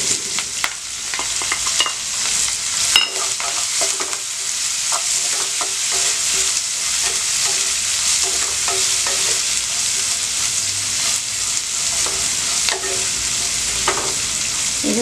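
Onions, curry leaves and green chilli stir-fry in a pan for soya chunk poha upma, giving a steady, close, loud sizzle with scattered stirring scrapes and no talking.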